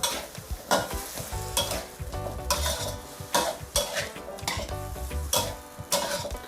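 Young coconut shoots and shrimp stir-fried with a little sugar, a utensil scraping and tossing in a hot pan in repeated bursts over a steady close sizzle, with no talking.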